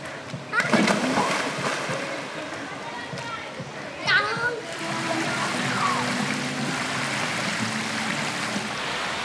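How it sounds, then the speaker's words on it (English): Water spilling out of a pool and running on toward a plantation field on Cagraray Island, Albay, as a steady close rush with sharper splashes near the start and around four seconds, then a fuller continuous flow. "the water flows out the pool here and then it flows into the plantation field over there"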